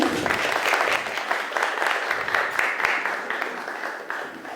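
An audience at an academic seminar applauds two presenters, steady clapping from a roomful of people that stays full for several seconds and eases off slightly near the end.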